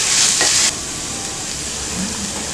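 Banana flower with chili powder, cumin powder and garam masala being stirred in a hot pan, a loud scraping burst for the first moment, then a steady sizzle of frying alone.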